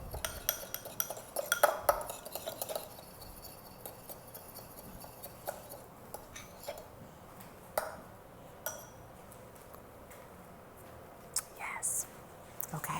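A spoon clinks and scrapes against a bowl while soy sauce is stirred into a tuna salad, with a cluster of clattering taps early on and lighter, sparser clinks afterward.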